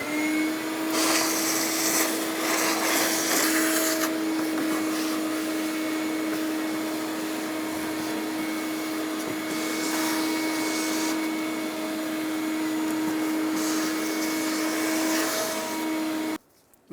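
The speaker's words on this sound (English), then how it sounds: "I'm going to use a vacuum and clean up around this plate that we're going to be taking off" A vacuum cleaner runs steadily close by, sucking dirt from around the fuel tank access plate of a 2000-2006 Toyota Tundra, a continuous loud whine with faint rubbing changes, then cut off abruptly at the end.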